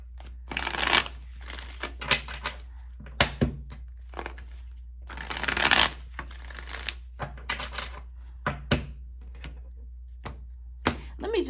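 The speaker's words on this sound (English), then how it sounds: "allowing me the time to do the pre-shuffle and cut the cards" A deck of cards is shuffled and cut by hand before a reading, giving a string of soft, close riffling and flicking bursts with brief pauses, at low level and with no voice.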